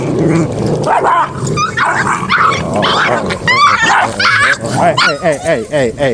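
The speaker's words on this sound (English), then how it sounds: "Big Blue over there, he over there growling" Adult dogs around new puppies and a piece of chicken give off a tense mix of low growls, whines and sharp yips, loud and close, with rising and falling cries packed together in bursts.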